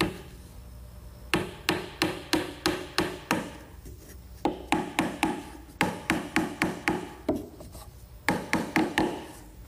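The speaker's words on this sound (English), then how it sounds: "So I'm just going to set these in place with some 4-penny finish nails." Four-penny finish nails are hammered into wood in quick bursts of sharp taps, each nail driven with several rapid blows before a short pause, close and clear with no talk.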